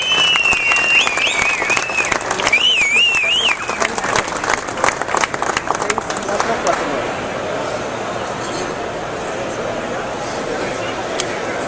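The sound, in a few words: crowd applause for the Afterburner car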